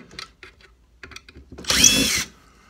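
A power screwdriver backs a screw out of the rail on a Red Ryder BB gun: one close, loud whirring burst of about half a second, following a few quiet handling clicks and taps.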